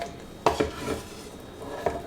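Cooked bell pepper, Fresno chilies, onion and garlic for hot sauce clatter into a high-powered blender jar, a few sharp knocks and thuds, close and otherwise quiet.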